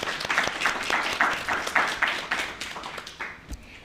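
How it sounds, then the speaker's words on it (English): Graduation ceremony audience applauding faculty members, a steady patter of many hands clapping with a few sharper individual claps standing out, fading toward the end with a final loud clap. "a big round of applause for all our faculty members"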